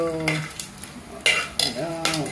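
Cumin, cloves and cardamom stir-frying in hot oil for soya pulao: a steady sizzle with sharp scraping stir strokes and utensil clinks in short bursts, close and fairly loud, with no talking.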